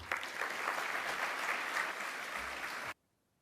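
An audience at a Port Days 2023 keynote in Saint John applauds to welcome CPKC CEO Keith Creel to the stage, a dense roomful of clapping held steady for about three seconds before cutting off abruptly.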